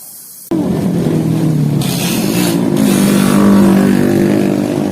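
A motorcycle engine revs loudly and steadily up close, its pitch climbing slightly, with no voices over it.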